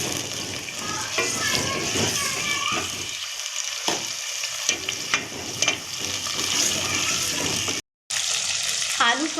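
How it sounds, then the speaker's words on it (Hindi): Potatoes fry in hot oil for a potato Sindhi biryani, a steady close sizzle and watery crackle running throughout with brief stirring scrapes and a short gap near the end. "अब हम इसमें आलू फ्राई कर लेंगे ऑयल में।"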